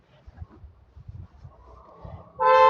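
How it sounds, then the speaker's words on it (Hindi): The horn of a Hyundai Venue HX5 compact SUV sounds once, a short loud honk near the end that follows quieter rustling and faint handling noises. "इस तरह का हॉर्न इसमें रहेगा।"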